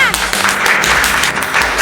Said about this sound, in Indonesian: Tepuk tangan untuk Dulcia.